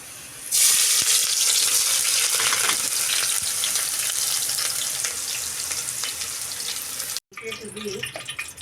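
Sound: onion frying in hot oil

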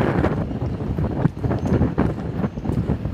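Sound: wind blowing at a marina dock

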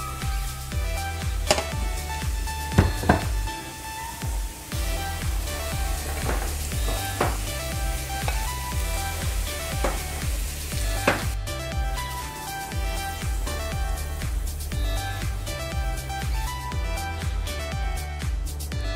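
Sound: taro root (arbi) frying in oil while being stirred

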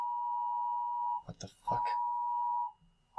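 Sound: phone Amber Alert emergency alert tone

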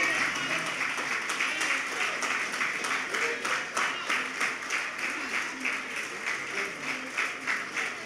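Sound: audience applause

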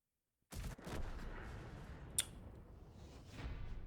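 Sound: tank cannon fire in a video game

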